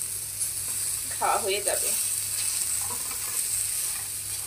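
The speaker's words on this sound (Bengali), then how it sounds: "বেগুন কিন্তু খুব বেশি একটা ভাজা যাবে না, দেখতে কত সুন্দর শব্দ হচ্ছে" Peanuts and eggplant (brinjal) frying in a pan give a steady close sizzle with crackling bursts, while someone speaks over it and a low hum runs underneath.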